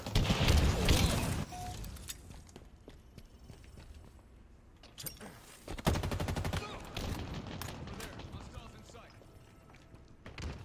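Bursts of gunfire in a Halo Infinite multiplayer match, sharp cracks at the start and a dense volley midway, with players talking between shots.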